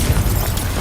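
A Confringo fire-blast spell exploding in Hogwarts Legacy, a loud, dense, rumbling burst that fills the short moment, close and heavy with low boom.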